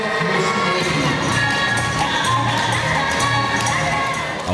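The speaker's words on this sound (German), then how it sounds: "Auch dem Publikum gefiel es und die Modelle ernteten großen Applaus." An audience at a fashion show in Magdeburg applauds and cheers loudly and continuously, a dense crowd noise with a few voices mixed in.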